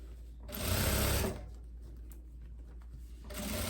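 A sewing machine stitches folded bias binding into the armhole of a long viscose dress, with two bursts of fast, close stitching separated by a short quiet pause.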